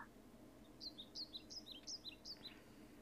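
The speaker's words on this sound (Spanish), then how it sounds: "Qué lindo sonido de pájaros." Small birds chirp in quick, high-pitched bursts, a string of short tweets repeating over quiet background hum, fairly faint and distant.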